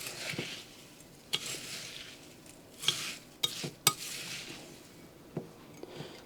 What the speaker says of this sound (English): You want to continue to mix up your Rice Krispies in the mixture